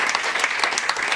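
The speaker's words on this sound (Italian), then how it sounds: "a cui va intanto il vostro applauso" Theatre audience applauding at an Italian stage event, a dense, steady burst of many hands clapping close up with no voices over it.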